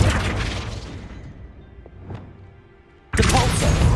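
Flipendo spell cast in Hogwarts Legacy: a loud magical burst that decays over about a second, a quiet lull with a faint whoosh, then another sudden loud burst.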